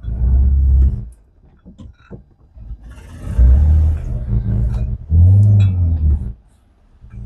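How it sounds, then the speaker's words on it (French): Peugeot 206 with a TU5JP4 engine revved hard in bursts, three loud deep roaring surges separated by brief drops to idle, close by. "Faut accélérer comme un bourrin."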